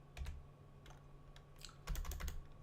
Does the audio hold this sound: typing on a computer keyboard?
yes